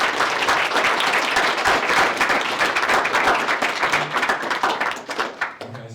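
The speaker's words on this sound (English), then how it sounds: "Let's give a round of applause for our panelists today." An audience at a high school intern panel applauds the panelists, a dense sustained clapping that fills the room evenly before thinning into a few scattered last claps and fading out.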